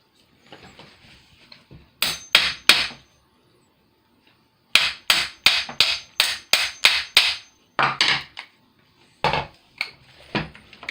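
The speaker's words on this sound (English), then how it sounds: "Craftsman gunsmith hammer," A gunsmith hammer taps on AR-15 rifle parts during reassembly: close, sharp strikes in quick bursts of two to six blows, separated by short pauses, with no talk.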